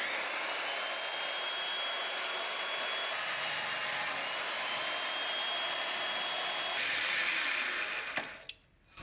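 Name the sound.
Peugeot 220 V column drill press drilling square tube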